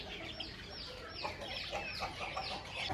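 A heavy-bodied hen at a Nellore poultry seller clucks faintly in short repeated bursts against a busy background of other birds.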